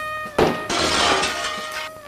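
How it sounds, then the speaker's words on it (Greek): A kitchen window pane shatters in a loud, close crash, followed by a sustained spray of breaking and tinkling glass that continues for well over a second before tailing off. "Έσπασε το τζάμι της κουζίνας."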